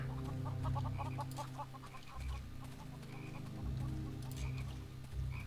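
Hens cluck repeatedly in the fantasy role-playing game Neverwinter Nights 2, short bursts of clucking over a steady low hum of game ambience with no talk.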